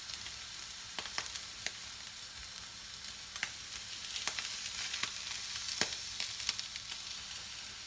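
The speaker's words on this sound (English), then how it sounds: "So you hear the sizzle, that's how you know it's hot enough." Steak sizzles in a hot skillet, a continuous bright hiss with scattered sharp pops and crackles, close and fairly quiet with no talking.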